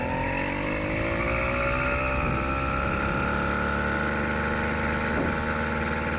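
A homemade 100cc two-stroke motorized bicycle engine four-stroking: a steady, buzzy mechanical drone with dense harmonics that holds without a break, close to the microphone, with no voices.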